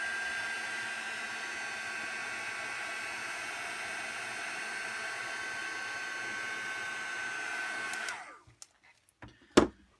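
A hair dryer blows on a stamped card to dry the ink, a steady broadband whoosh held close and loud for about eight seconds before clicking off, followed by a few small handling knocks.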